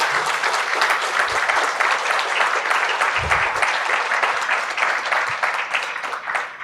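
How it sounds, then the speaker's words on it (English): A conference audience at a vision health event applauds a panel with dense, sustained clapping that fills the whole stretch at steady loudness, easing slightly at the very end, with no speech over it. "We should give them a big round of applause."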